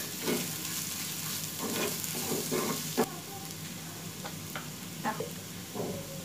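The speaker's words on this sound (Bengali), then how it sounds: "পেঁয়াজের সঙ্গে মশলাটা ভালোভাবে আরেকটু ভেজে নিব" Onions and spices fry in a pan for egg patties, a steady sizzle broken by several scraping stirs of a spoon, close and moderately quiet with no voice.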